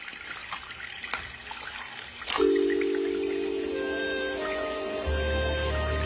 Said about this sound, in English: Okay, I'm gonna take a shower.